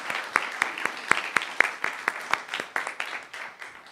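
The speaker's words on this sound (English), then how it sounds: "let's give them a round of applause for their hard work." A modest audience at a spiritual talk gives a round of applause, sparse distinct claps in an irregular patter that thins out toward the end, moderately close.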